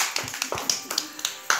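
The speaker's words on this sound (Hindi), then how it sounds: "सब और ताली बजाइए।" People clapping at a one-year-old daughter's birthday party, a short burst of irregular close hand claps with several sharp peaks in quick succession.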